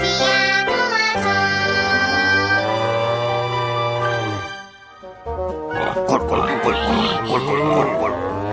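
A voice imitates a pig, giving a long run of rapid, rhythmic oinking grunts, loud and close, then breaking into a more broken, varied burst of grunts.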